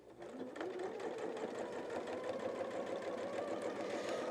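Sewing machine stitching a self-binding tarot mat along a color seam, a steady close mechanical whir and rapid needle chatter running continuously without pause.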